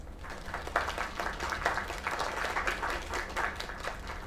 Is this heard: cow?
no